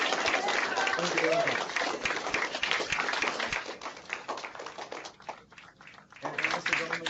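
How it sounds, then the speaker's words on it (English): Students applaud over unmuted microphones for a Pro Football Hall of Famer, a loud, dense wash of clapping that fades briefly near the end and then swells again, with someone speaking over it. "join me in saying thank you and giving a warm round of applause"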